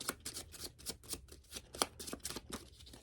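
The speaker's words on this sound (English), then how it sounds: "I'm out of cards, so I'm going to shuffle up my discard." A deck of playing cards being shuffled during a tabletop card game, a steady run of quick riffling flutters and soft slaps, close and fairly quiet, with no talking.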